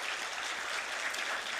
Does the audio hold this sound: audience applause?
yes